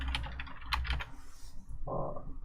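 Quick, close keystrokes on a computer keyboard while keywords are entered into an ad tool, an irregular run of light taps with a longer key press near the end, over a quiet room background.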